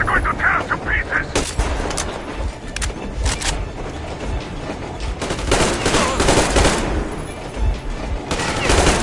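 Heavy gunfire in Metro Exodus: repeated loud shots and bursts crackle throughout a chaotic firefight, with explosions and shouting voices mixed in.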